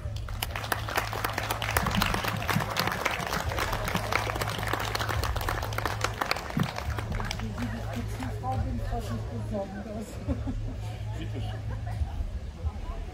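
An outdoor crowd welcomes Cologne's mayor Henriette Reker with steady, moderately loud applause at the reopening of the Rheinpark café. The clapping carries on continuously, mixed with murmuring and a low hum.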